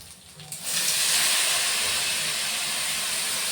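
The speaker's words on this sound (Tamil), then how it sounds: "நம்ம எடுத்து வச்சுருக்கிற புளியை வந்து இதில் ஊற்றிக்கலாம்" Tamarind water poured into a simmering bitter gourd curry in coconut milk: the quiet simmer suddenly bursts into a loud, sustained hissing sizzle that holds steady to the end.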